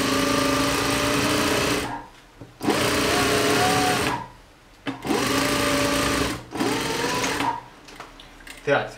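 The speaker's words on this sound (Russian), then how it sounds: "Мы вначале делаем центральный шов." A sewing machine runs in three bursts of a few seconds each, stitching the centre back seam of a jacket, loud and close with short pauses between runs and a voice talking during the gaps.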